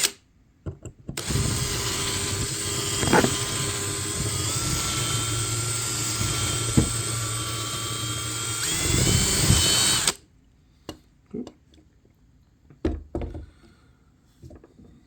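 A small power drill bores out the rivet on a Hot Wheels die-cast toy car, a close, high-pitched continuous whine lasting about nine seconds, then a stop followed by scattered clicks and handling taps.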